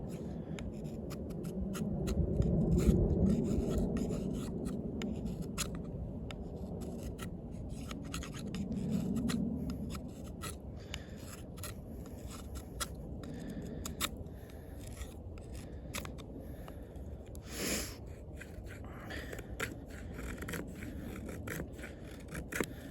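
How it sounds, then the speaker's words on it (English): A Sitivien ST19 combat tanto knife with a 154CM steel blade cuts small pieces outdoors, giving quiet, repeated scraping and slicing rasps over a low background rumble. "Let me just cut a few small little pieces here."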